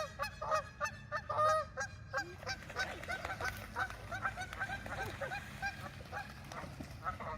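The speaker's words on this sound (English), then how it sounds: "Got a little goose fight." Geese honk and squabble on the water in a territorial scuffle, with a dense stream of overlapping harsh calls at a steady moderate distance over outdoor background noise.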